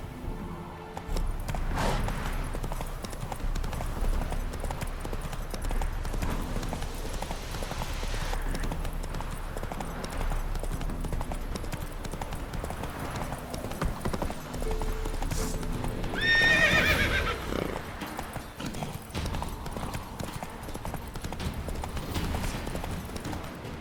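Roach, Geralt's horse in The Witcher 3: Hearts of Stone, clip-clops along at a steady walking rhythm for the whole stretch, with a whinny rising partway through over ambient game sound.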